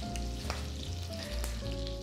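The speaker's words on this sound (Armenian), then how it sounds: "Երբ սոխը կտրատում ենք փետրաձև, այն համաչափ է տապատում։" Wedge-cut onion frying in a pan, a soft steady sizzle with occasional crackles and a low hum underneath, no voices.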